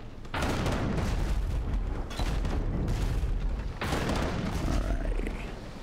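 Repeated heavy booms of ship cannon fire in the naval combat game Abandon Ship, loud and sustained, with dense rumbling blasts filling several seconds and a brief gap before another volley.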